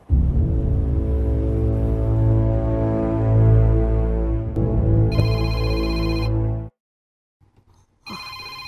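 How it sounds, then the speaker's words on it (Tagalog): A mobile phone ringtone plays loud and close as a repeating tonal melody for about six and a half seconds, cuts off abruptly, then starts again briefly after a short silence. "Ang akong cellphone."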